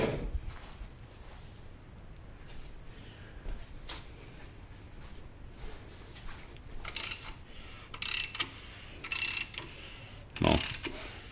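An LS engine crankshaft with rods and pistons installed is rotated by hand on a turbo build, four spaced metallic ratcheting clicks in the second half over a quiet shop hum, close by with no talk.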